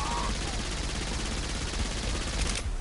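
Dual SMGs fire in Saints Row IV as a dense, continuous burst of rapid gunfire, loud and steady throughout with game sounds mixed in.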